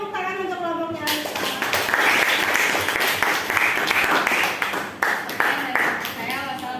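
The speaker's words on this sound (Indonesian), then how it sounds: "beri tepuk tangan untuk kelompoknya Anita" A classroom group breaks into applause for a student group, a dense spatter of hand claps lasting several seconds after a brief spoken word, with some chatter over the clapping.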